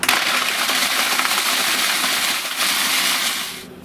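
Milk arrowroot biscuits are crushed into fine crumbs for a brownie base, a loud, continuous gritty grinding like a food processor running, which cuts out abruptly at the end.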